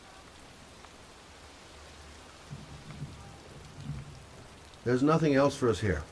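Steady rain pours down in a rain-soaked scene from the video game Heavy Rain, a continuous hiss of falling water with low rumbling underneath, and voices speak over it near the end.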